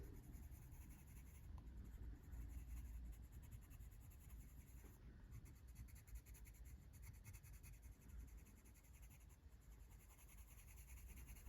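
Colored pencil shading across paper fills the whole stretch with a steady, close scratchy rasp, a continuous dense texture of small strokes with slight swells and no voice over it.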